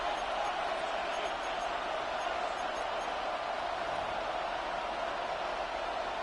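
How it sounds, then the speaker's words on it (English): A football stadium crowd roaring to urge on the defense late in the fourth quarter, a dense, steady wash of distant crowd noise holding level throughout with no distinct peaks. "This crowd urging the defense on."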